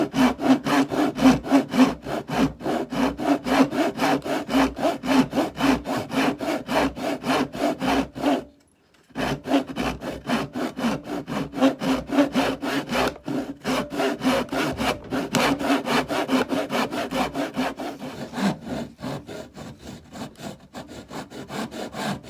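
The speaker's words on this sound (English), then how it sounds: "That's how you should use the tenon saw." Rhythmic back-and-forth rasping of a hand tenon saw cutting wood for a hidden mortise and tenon joint on a handmade wardrobe, close and steady, with one short pause partway through before the strokes resume.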